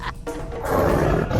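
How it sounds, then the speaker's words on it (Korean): A tiger gives a deep, rasping roar as a drama sound effect right after being caught, heavy and close, with a short break before the growl swells and holds to the end. "조선의 호랑이를 잡았어."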